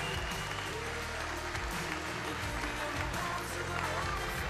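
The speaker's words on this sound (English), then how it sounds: "give both these fighters a big round of applause" An arena crowd applauds the fighters after a bout, a steady wash of clapping and crowd noise heard faintly and at a distance, with an announcer's voice mixed in.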